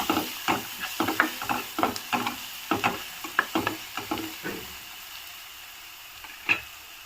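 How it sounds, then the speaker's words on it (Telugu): Cumin, garam masala and coriander powder are stirred into frying Maggi masala, with a spoon scraping the pan in quick repeated strokes over a soft sizzle, close up, then the stirring stops and only a low hiss remains. "ఇప్పుడు ఇందులోకి జీరా పౌడర్, గరం మసాలా, ధనియా పౌడర్ వేసుకొని ఒకసారి మిక్స్ చేసుకుందాము."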